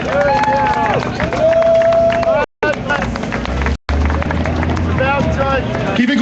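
Audience at a rally cheering and applauding, loud dense crowd noise with whistles and shouts throughout, briefly cutting out twice.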